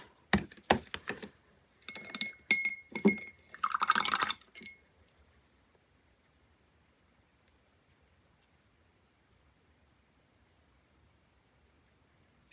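Water trickles and drips into gesso in a container, with a few soft clinks and splashes over about five seconds, close and quiet, followed by near silence.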